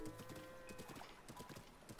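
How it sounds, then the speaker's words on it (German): Quick rhythmic clip-clop hoofbeats of a horse galloping across swampland in The Legend of Zelda: Breath of the Wild, steady and close, with a faint whinny-like tone early on and no speech. "Dann reiten wir einmal durch den Sumpf."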